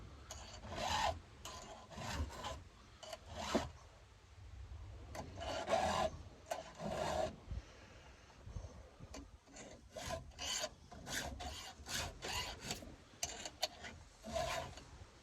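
Hand file rasping across a chainsaw cutter tooth, a low-profile tooth on a ported Stihl 08S with a 21-inch bar and 3/8 chain, in repeated close, gritty strokes with short pauses and no talking.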